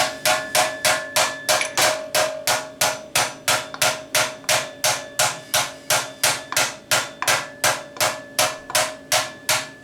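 Steady, evenly spaced hammer blows on solid steel while shaping a handmade anvil from scrap, roughly three strikes per second, loud and close, each a sharp ringing metallic clang with no talking.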